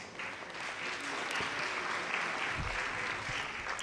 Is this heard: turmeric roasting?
no